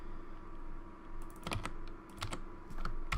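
Rapid typing on a computer keyboard while scripting, with clustered bursts of keystrokes and short pauses between them. The clicks are close and clear, with no speech.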